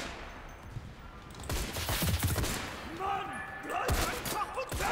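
Mondragón M1908 rifle fire in the video game Enlisted, with sharp gunshots in quick bursts near the middle and end among other battlefield sounds, while someone talks over the action.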